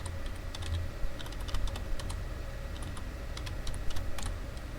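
Quick, irregular keystrokes clatter on a computer keyboard at close range, typing out text in steady bursts over a faint room hum.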